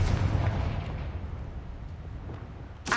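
A Confringo spell explosion from the video game Hogwarts Legacy: a loud rumbling blast that fades over a few seconds, with a brief sharp burst at the end.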